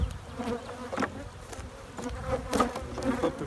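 Honey bees hum and buzz steadily around an open beehive as a honey super is set on for the harvest, a close, continuous drone with individual bees flaring louder as they pass near, and no talking.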